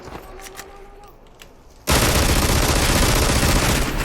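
Gunfire in the video game Super People bursts out after a quieter moment, turning into a loud, dense, continuous barrage of rapid shots that fills the rest of the moment.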